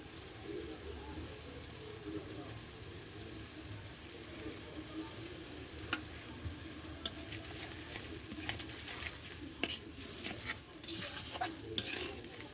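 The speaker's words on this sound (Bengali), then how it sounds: "এর মশলা আমি ভালোভাবে কষিয়ে নেব" Turmeric and red chilli powder stirred and fried in a pan for a tengra fish curry, with soft scraping and clinks of a spoon, quiet and close, growing busier toward the end.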